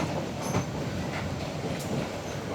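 A broad-gauge passenger train on the North Bengal route passes by, a steady, moderately distant rumble of rolling wagons heard from another moving train.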